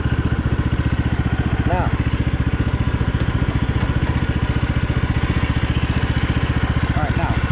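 Troy-Bilt Bronco 46-inch lawn tractor engine running close by with a loud, steady rapid chug as it backs up in reverse, someone speaking briefly over it.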